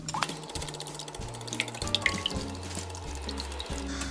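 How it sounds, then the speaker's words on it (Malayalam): Eggs with salt and pepper are beaten vigorously in a bowl, making close, rhythmic wet sloshing and clicking in quick, repeated strokes, with no one speaking. "എന്നിട്ട് ഇതിനെ നന്നായിട്ടൊന്ന് ബീറ്റ് ചെയ്തെടുക്കുക."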